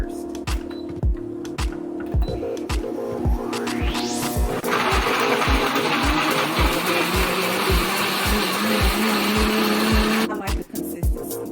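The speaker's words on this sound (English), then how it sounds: "I think I'm gonna grind it first" A blender grinds thick chunks of pineapple and ginger. The motor whines up to speed, then a loud, steady grinding whir runs on before cutting off near the end.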